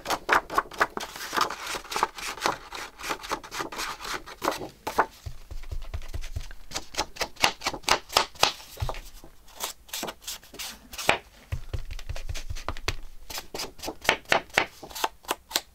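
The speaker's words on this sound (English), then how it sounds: "This is a noisy paper." Stiff paper being handled and folded for a handmade file folder journal, giving close, crisp crackles and sharp snapping clacks in quick irregular bursts with short quieter stretches between them.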